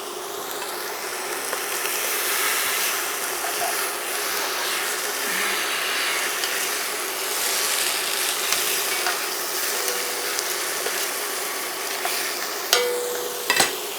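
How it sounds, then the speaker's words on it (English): Beef chunks for braised carnitas sizzle steadily in a hot pan, a continuous bright frying hiss with occasional faint stirring scrapes and no voices. "we're gonna let that brown for another 2 minutes before we add in our broth"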